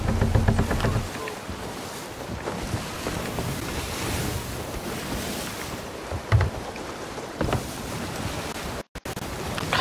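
Video game sailing ship with three sails pushing against the wind at sea: steady rushing wind and surf noise with waves washing along the hull throughout, plus a brief dropout near the end.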